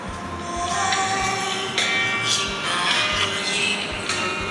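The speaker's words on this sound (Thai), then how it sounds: "มัน มันเสียงลำโพงเนี่ยจะออกจากข้างล่างตรงนี้นะฮะ" Audio plays continuously from the bottom loudspeaker of a vivo V5 smartphone, bright and slightly thin, with steady tonal content and rhythmic low thumps throughout.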